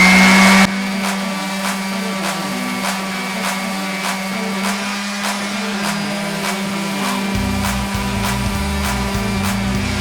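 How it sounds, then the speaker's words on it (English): A dual-action sander fitted with 220-grit sandpaper runs steadily nearby, a loud constant motor whir with a rough scratchy edge that shifts slightly in tone as it works across the surface. "I picked up this DA sander, and I've got a 220 piece of sandpaper on there"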